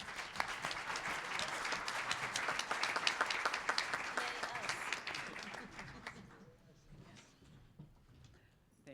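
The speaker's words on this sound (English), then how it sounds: "So I would give yourselves a round of applause." Dense audience applause at a LHON community update gathering, steady clapping for about six seconds before thinning and fading away.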